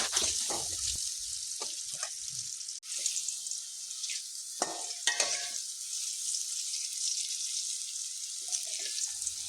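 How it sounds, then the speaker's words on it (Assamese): Potatoes fry in hot oil in a pan for a recipe, giving a steady close broadband sizzle throughout, with a few clinks and scraping stirs breaking through and no talking. "মানে আলুখিনি ভালদৰে ভাজি ল'ম, যেতিয়ালৈকে কালাৰ নহয় তেতিয়ালৈকে ভাজি থাকিম।"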